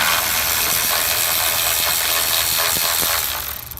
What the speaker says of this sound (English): So I'm going to take our Milwaukee battery operated cordless ratchet, and we're just going to unscrew it